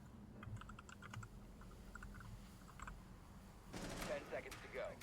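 Quick bursts of keyboard typing clatter faintly over a low hum in a competitive shooter match broadcast, followed near the end by a louder, denser burst of game noise.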